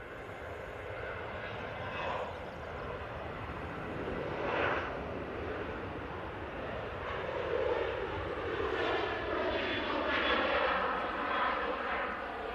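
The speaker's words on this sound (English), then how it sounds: "this one's the Ryanair off to Valencia" Ryanair jet departing Manchester Airport, a moderately quiet, continuous engine rumble with a slowly shifting whine as the aircraft moves away into the distance.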